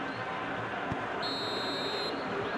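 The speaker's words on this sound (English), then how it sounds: "And there goes the final whistle." A referee's final whistle in the football video game PES 2021, a steady high-pitched blast lasting under a second, sounding over constant crowd noise from the stadium.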